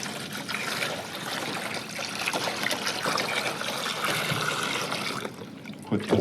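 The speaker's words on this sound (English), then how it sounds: "All right, so I'm gonna put water in." Water pours steadily into a TurboKlone T24 aeroponic cloner reservoir, a continuous trickling splash lasting several seconds before easing off, with a brief clunk near the end and no talk over it.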